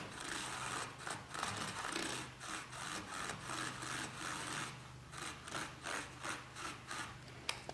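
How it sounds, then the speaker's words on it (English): A power mixer churns milk paint pigment into water, giving a rough, rasping whir with a pulsing rhythm, close and fairly quiet, no talking. "with the power of the mixer, it's actually making the pigments go and incorporate into the water"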